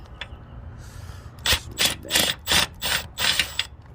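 Ratchet wrench loosening a 12 mm bolt on the positive terminal of the starter on a 2005 Infiniti FX35, a close, loud series of six rhythmic clicking bursts after a quiet start, without speech.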